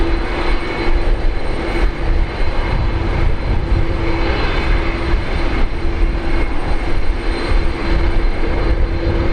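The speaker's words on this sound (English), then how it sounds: "Rolling now. Qantas 51 off to Singapore." A Qantas jet bound for Singapore takes off from runway 19 left at Brisbane Airport, its engines a loud, steady, broadband roar that holds unbroken throughout.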